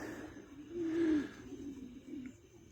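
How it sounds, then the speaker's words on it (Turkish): Newly bought pigeons, a blue female, an Arab and a white bird, released into the coop: a single low, soft coo rising briefly from quiet ambience, followed by faint murmuring. "buraya getirdiğimiz kuşlar kümese saldık"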